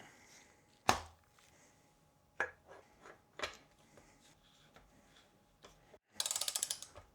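A torque wrench ratchets on a gravel bike crank fitted into the bottom bracket, tightened to 54 newton meters: several separate clicks and clacks, then a fast burst of ratchet clicks near the end, close and clear with no talking.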